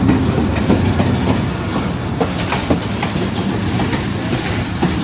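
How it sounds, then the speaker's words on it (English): Pakistani passenger train running between Jhelum and Lahore, with a loud, steady rumble and clickety-clack of wheels on rails, heard close from inside, with faint squeals scattered throughout. "the train is continually moving towards the Lahore"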